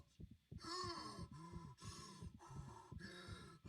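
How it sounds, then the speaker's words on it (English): Isaac Clarke, the Dead Space Remake protagonist, recovering from oxygen loss: heavy, close gasping breaths in quick repeated pulls, loud and alone with no talk. "you can expect to hear Isaac catch his breath as he recovers from a lack of oxygen"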